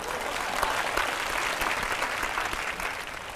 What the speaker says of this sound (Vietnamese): xin cho một tràng pháo tay cổ động.